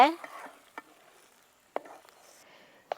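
A spoon stirring semolina and caramel in a pan while an evening snack is made at home: faint, sparse scraping strokes and a few soft clicks separated by near-silence.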